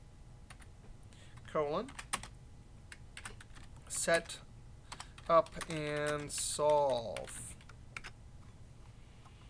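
Rapid clicking keystrokes on a computer keyboard run steadily through the stretch, close and fairly quiet, while someone speaks over them intermittently.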